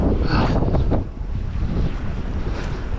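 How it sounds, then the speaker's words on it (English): Strong wind gusting through a Montreal boulevard the day after a blizzard-like snowstorm, loud, steady buffeting against the microphone that eases slightly after the first second. "And the wind, oh my god, the wind"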